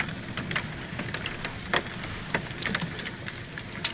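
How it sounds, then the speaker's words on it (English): Hail falls during a spring thunderstorm, a steady hiss of irregular ticks and patters of ice striking surfaces, heard throughout at moderate level with no voices. "So that's some hail."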